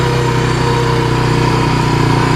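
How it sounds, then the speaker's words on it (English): A 1998 Honda Foretrax 300 ATV engine runs steadily up close, a loud continuous drone with an even buzzing pulse and no voices over it. "What we're driving is a Honda Foretrax"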